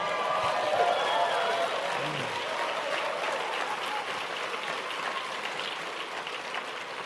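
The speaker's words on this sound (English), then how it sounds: "You ought to give yourselves a round of applause." Audience applause fills a motivational speaking event, a dense, steady wash of clapping from a large crowd that holds strong throughout and tapers only slightly toward the end.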